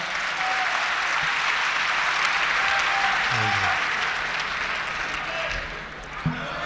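A mushaira audience at an Indore poetry gathering breaks into sustained applause, a broad wash of many hands clapping in a large hall, easing slightly near the end.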